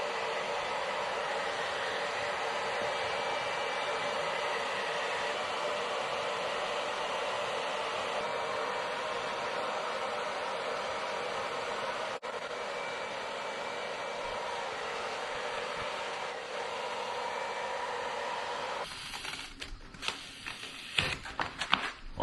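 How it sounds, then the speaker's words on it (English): Hair dryer blowing hot air to soften the glue under old grip tape on an electric skateboard, a steady loud whooshing hum running continuously for about twenty seconds before ending in a few clicks and rustles. "I'm going to remove the old grip tape from the board, and for that I'm going to use the help of a hair dryer"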